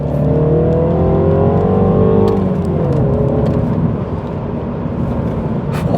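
A 2016 Mini Clubman Cooper S engine revving hard after a downshift to second gear, driven in the rain: a loud, close, rising engine note that climbs, then eases back as the revs settle.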